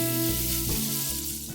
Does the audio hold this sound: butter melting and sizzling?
yes